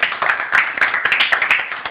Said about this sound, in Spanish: Ay, aplauso, aplauso